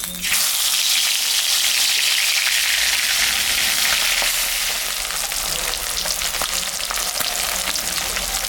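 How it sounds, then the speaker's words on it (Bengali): Fish seasoned with salt and turmeric frying in hot mustard oil in a kadai, giving a loud, steady, close sizzle that holds for the whole stretch with no voices over it. "এখন আমি মাছটা ভাজবো"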